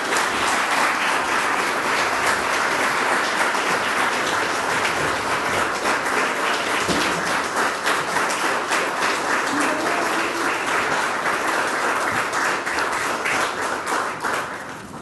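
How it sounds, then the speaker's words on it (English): A sustained round of applause from an audience at the dedication of a county public safety building, steady dense clapping filling the whole stretch at moderate distance, fading slightly at the end. "please give a big round of applause to Mr. Robert."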